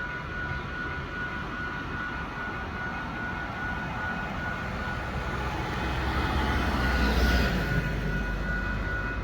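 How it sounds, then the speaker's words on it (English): A train passes through the town of Dunsmuir, California, heard as a broad steady rumble and roar with a sustained high whistle tone, swelling louder toward the end as it nears. "That was only the second train I've heard come through here today."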